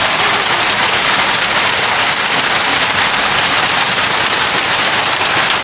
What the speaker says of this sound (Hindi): ये देखिए बारिश शुरू हो गई है